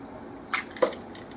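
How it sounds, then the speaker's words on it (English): Two eggs cracked one after another into a bowl of waffle batter ingredients, two short, sharp cracking taps close by in a quiet kitchen. "Then you're going to crack in your eggs."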